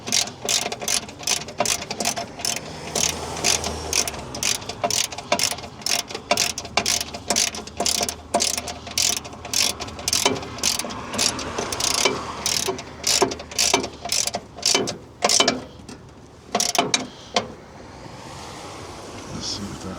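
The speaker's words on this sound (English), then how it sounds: "I'm going to have to tighten these top side brackets first." Top side brackets on an American Clipper boat are tightened with a ratchet, a run of quick, close metallic clicks in uneven bursts over a faint background, ending in a few separate clicks.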